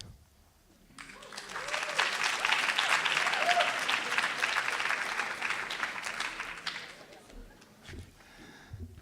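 An audience bursts into loud, sustained applause that carries for several seconds before tapering off, with some faint voices at the edges.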